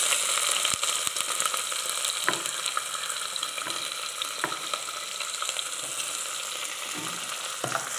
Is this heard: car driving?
no